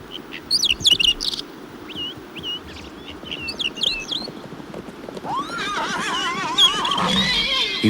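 A red stallion leading a herd gives a long, loud, quavering whinny near the end, following hoof clip-clops and bright bird chirps earlier on, with no voices.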